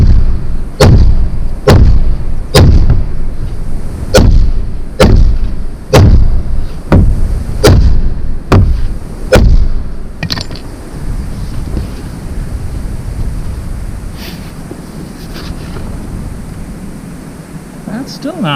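An adjustment hammer knocks on a wood block set against PVC base trim in a shop, about eleven loud, evenly spaced thuds close to the microphone, then quieter rustling.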